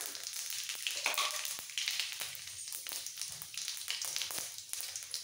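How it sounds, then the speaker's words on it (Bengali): Bay leaves, fennel seed and panch phoron spitting and crackling in hot oil, a steady close sizzle broken by sharp pops and spatters throughout, with no one talking. "এবার 2-3টে তেজপাতা ফোড়ন দেব আর দিয়ে দেবো 5 ফোড়ন"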